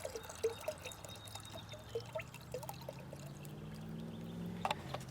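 Liquid herbicide being poured to measure four ounces for a sprayer mix on a clover plot, a quiet trickle and splash with scattered drips and faint handling noise, no voices.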